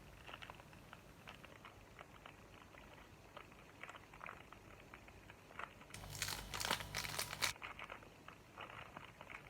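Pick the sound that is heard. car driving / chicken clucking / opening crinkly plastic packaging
opening crinkly plastic packaging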